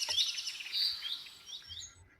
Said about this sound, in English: Sometimes you could hear the birds and animals singing miles away from the forest.